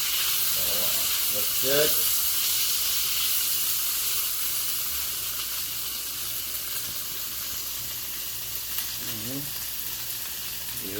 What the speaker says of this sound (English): put some tomatoes in there. Saute a little bit.